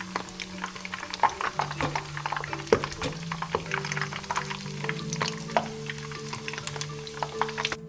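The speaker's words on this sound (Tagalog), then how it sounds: "tapos na tayo magprito ng tilapia" Tilapia fries in hot oil with a crackling, popping sizzle, close by, with occasional stirring or clinking sounds and a steady low hum underneath.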